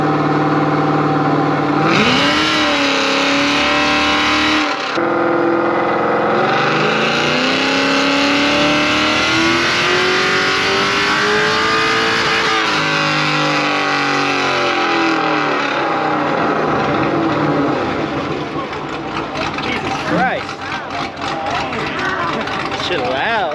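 A 2JZ-powered drift car on a dyno at a motorsport open house, its engine screaming loudly through sustained revs with rising and falling pitch, dropping off briefly and then climbing again, while people talk faintly underneath.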